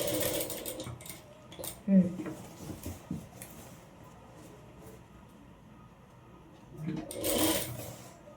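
A sewing machine runs in short bursts as it stitches down a folded fabric edge, making a soft mechanical whir with clicks and a louder burst near the end.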